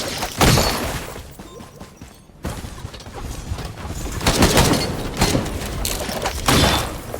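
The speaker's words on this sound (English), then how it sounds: "Oh, they explode." Enemies bursting apart in the Risk of Rain video game, a string of loud crunchy blasts and crashing booms in irregular bursts over constant game noise.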